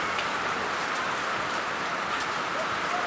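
Steady rain pours down at a construction site, a continuous broadband hiss of drops with no breaks, fairly close and even throughout.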